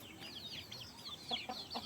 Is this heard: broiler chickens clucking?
yes